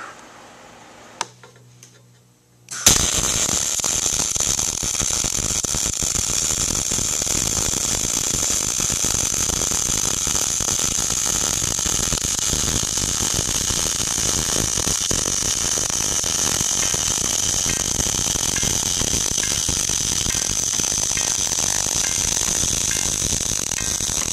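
An inside fillet weld is MIG welded with National wire, giving a long, continuous, close crackling buzz. Before the arc strikes there are a few seconds of quiet with faint clicks.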